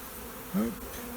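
A steady swarm of honey bees drones around an opened hive during a spring inspection, and one bee buzzes loudly close by for a moment before the hum settles again.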